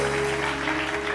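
Studio audience clapping for a guest on a morning TV show, a dense continuous wash of applause heard throughout, fairly loud and even, with no clear speech over it.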